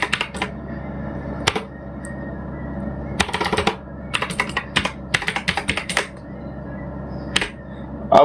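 Typing a new mobile number into a customer inquiry form on a computer keyboard, with close, clear clusters of key clicks coming in uneven bursts and short pauses, no talk.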